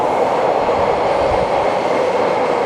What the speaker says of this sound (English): Okay, I'm going to get on this train.